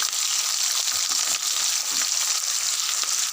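Onion and green chillies land in hot oil in a frying pan for an aloo masala curry, raising a loud, continuous crackling sizzle that stays dense and even throughout.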